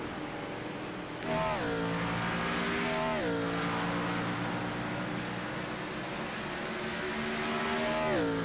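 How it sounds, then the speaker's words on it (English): Gen 4 stock-style race cars on the final lap at World Wide Technology Raceway, engines droning steadily with rising and falling pitch as cars shift and pass, a continuous roar at a moderate distance. "Kel Peterson going down into 1 and 2 for the final time."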